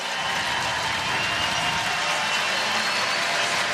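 Hockey arena crowd at an Oilers–Sharks NHL game applauding steadily, a dense, even wash of clapping and crowd noise that holds at a constant loud level throughout.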